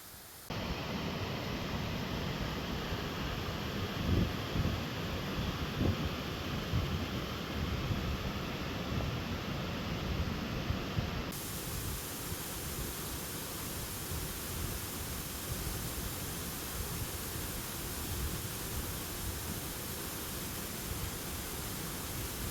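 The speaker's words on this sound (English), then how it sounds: "So here I'm at the waterfall." A waterfall roars steadily from close by, a dense, unbroken rushing hiss of falling water that holds constant throughout with no voices.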